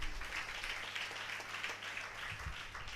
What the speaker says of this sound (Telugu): దేవునికి ఒకసారి గట్టిగా స్తోత్రం చెబుదాం. చప్పట్లు కొట్టి